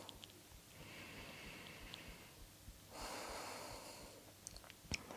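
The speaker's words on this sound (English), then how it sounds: "So breathing in and out through the nose," Slow nasal breathing during a gentle vinyasa yoga flow: a long soft inhale, then a fuller exhale through the nose, close and breathy with no talking over it.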